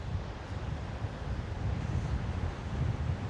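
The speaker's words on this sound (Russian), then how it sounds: "волны брызгают" Ocean waves splashing onto the shore in steady wind, a continuous low surf wash with gusty rumble on the microphone and no voices.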